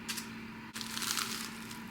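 A close, crisp crunch of a golden-brown baked croissant being bitten, two bursts of brittle crackling separated by a brief pause, over a faint steady hum.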